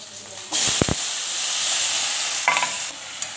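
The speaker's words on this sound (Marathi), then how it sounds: "याला परतून घ्यायचं छान प्रकारे" Garlic-ginger paste, green chilli and chopped onion hit hot oil with a sudden loud hiss, then keep up a steady close sizzle while a utensil stirs with a couple of knocks and scrapes.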